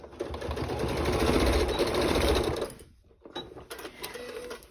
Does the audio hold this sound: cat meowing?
no